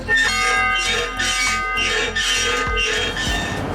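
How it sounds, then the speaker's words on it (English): A large train-station bell in Otaru, Japan, rings once with a deep, resonant tone that hums and swells, its overtones hanging in the air for several seconds amid low steady background noise. "we're gonna ring the bell once"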